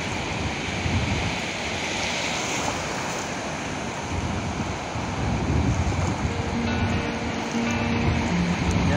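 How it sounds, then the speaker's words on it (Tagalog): Steady broadband wash of surf rolling against a shore, with wind buffeting the microphone throughout and no voices. "Alon."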